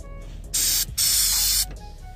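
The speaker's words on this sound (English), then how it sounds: "We're gonna try spraying that in there, and then we also got some WD-40." An aerosol can of cleaning lubricant sprays into a Mazda Miata door lock in two strong hissing bursts, a short one followed by a longer one, close up with no talking.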